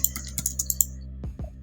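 Rapid keystrokes on a computer keyboard while entering a scale command in AutoCAD 2023, about six close, light clicks in quick succession, followed by two low thumps.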